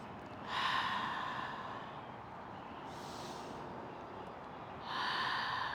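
Slow, deep breaths during a yoga triangle pose outdoors in a park, with an audible inhale, a long exhale and another breath in, close and soft against a faint background.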